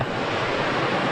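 A strongly flowing river swollen after heavy rain, a steady broadband rush of water that stays loud and even throughout, with no voices.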